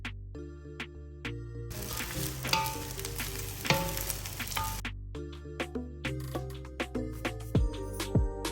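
Raw washed rice fries in a pan with thyme for Thai pineapple fried rice, giving a crackling sizzle that swells loud in the middle and is dotted with sharp clicks and stirring knocks. Soft musical tones run underneath.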